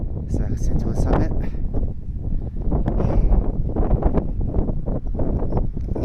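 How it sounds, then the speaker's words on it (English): Strong wind buffets the microphone on the cold, 10,000-foot summit of Mt. San Jacinto, a steady loud roar with gusty surges lasting throughout. "The wind has picked up a little bit."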